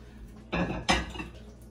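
Dishes and utensils clink as fried chicken is served up in a home kitchen, two short, close bursts of clatter about a third of a second apart, then quieter rattling.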